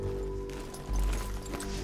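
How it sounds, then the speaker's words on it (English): A runaway horse gallops in Red Dead Redemption 2, a quick rhythmic clip-clop of hooves under game music and ambience, fairly soft with one heavier thump midway. "It's a runaway horse."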